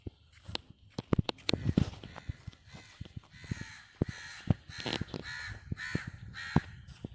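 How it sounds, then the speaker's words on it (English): Loud, repeated crow caws in irregular bursts, close by in a residential holiday estate in Malaysia, with occasional rustling or footstep-like thumps between calls. "Yeah, that is a very noisy crow here."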